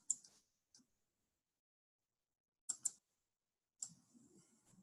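Mouse clicks in a computer application's File and Options menus: a crisp single click, a faint second, then a quick double click and another click, close and quiet, with faint low murmuring after the last.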